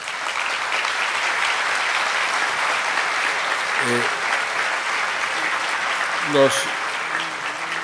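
Steady, sustained applause from an audience at a Caribbean forum in Colombia, dense clapping filling the room evenly for several seconds, with brief voices rising over it near the end.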